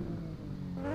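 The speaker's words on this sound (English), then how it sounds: "Now first, behold the engine noise." Aston Martin One-77 engine in the racing game Test Drive Unlimited 2, a brief low droning rev with steady harmonic tones that climb in pitch toward the end, moderately loud and alone.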